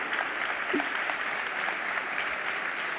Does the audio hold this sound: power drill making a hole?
no